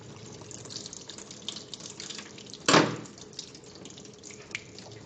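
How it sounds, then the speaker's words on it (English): Water flowing from the side tube of a double check valve assembly during a test, a faint steady trickle with one brief louder gush and splash midway, no talk. "water continues to flow from the side tube"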